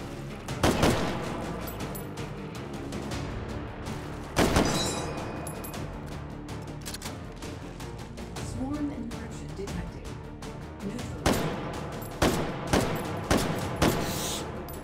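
Shotgun blasts in the virtual reality game Hot Dogs, Horseshoes & Hand Grenades, loud booming shots scattered over a busy backdrop of game noise, with a quick cluster of several blasts near the end.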